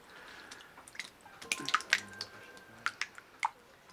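Goat cheese curd drips through a filter, with soft, irregular wet plinks and squishy drops, some clustered and some isolated, close and fairly quiet against a hushed background.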